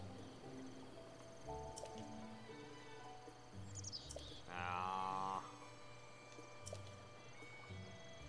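Crickets chirp faintly in the game Zelda: Breath of the Wild, soft scattered chirps mixed with tonal in-game ambience and a brief brighter burst midway, all quiet and with no talking.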